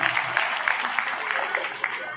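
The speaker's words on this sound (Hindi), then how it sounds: "इसके लिए मैं चाहूंगा जोरदार तालियां आदरणीय नरेंद्र मोदी जी को" Crowd clapping at a political gathering during a Kajari festival event in Mira-Bhayandar, a brisk continuous round of applause with scattered sharper claps throughout.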